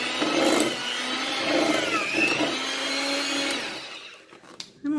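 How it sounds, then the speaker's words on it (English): An electric mixer beating cinnamon crispy cookie dough, a steady whirring drone that swells and dips with the load, heard close and ending in a few clunks near the end. "You can use your mixer for this for a little bit."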